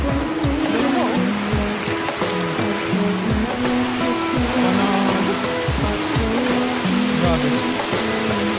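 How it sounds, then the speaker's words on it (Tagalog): Kinahulogan Falls in Lagonoy, Camarines Sur, pours steadily with a loud, continuous rushing roar, while voices and other faint sounds mix in beneath the water. "At napakaganda ng falls na yan."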